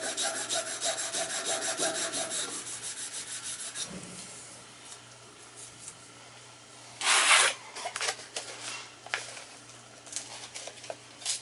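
Abrasive scraping and filing on a gas furnace blower shaft to clear off a burr: rough rhythmic rubbing strokes in bursts, with a louder harsh rasp partway through, over a steady low hum and no talk.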